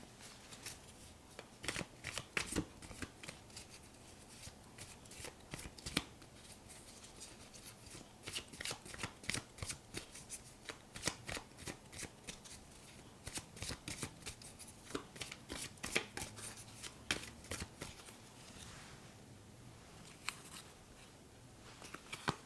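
A deck of tarot cards is shuffled by hand, close and quiet, with repeated rapid riffling and flicking bursts continuing steadily throughout, with no talking.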